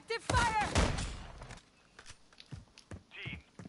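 Gunfire in Call of Duty: Modern Warfare 3, scattered sharp shots and thuds of a firefight, moderate and intermittent, with a voice speaking over the start.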